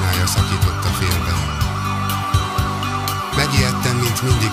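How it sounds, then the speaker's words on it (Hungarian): A speeding ambulance's siren wails loudly and steadily with rising and falling tones, close and continuous over the rumble of traffic. "Beszélgetésünket egy száguldó mentőautó szirénája szakította félbe."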